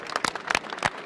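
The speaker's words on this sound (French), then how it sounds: "on l'applaudit très très fort." Applause from the audience at the AGECOTEL trade show, a short burst of scattered clapping at moderate distance, fairly quiet and uneven.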